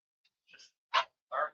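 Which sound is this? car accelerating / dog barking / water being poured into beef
dog barking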